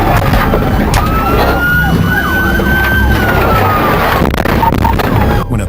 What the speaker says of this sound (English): With lights and sirens activated, the high-speed chase barrels down the highway